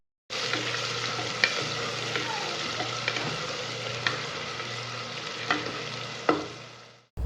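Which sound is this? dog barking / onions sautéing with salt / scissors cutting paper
onions sautéing with salt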